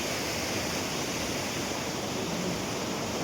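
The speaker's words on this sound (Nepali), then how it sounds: "खोला कराइरहेको छ" A roaring mountain river rushes near a footbridge and wet, muddy ground, a steady, dense wash of water noise that holds at an even level throughout, with no voices.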